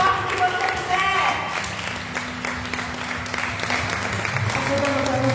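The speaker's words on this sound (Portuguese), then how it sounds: "pode aplaudir o Rei." Church congregation clapping through a worship moment, steady broad applause mixed with a sustained keyboard tone and voices, moderately loud throughout.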